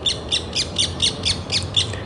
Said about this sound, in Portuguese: A reunião de pássaros ali. Alguma coisa está acontecendo, ó, de diferentes espécies. O João de Barro e o Sabiá do Campo.